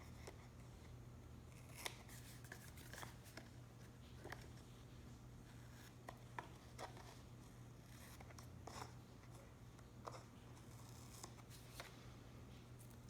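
Scissors snip away excess adhesive tape along the edge of a chipboard album panel, a series of quiet, crisp cuts spaced irregularly over a faint steady hum, with no talking.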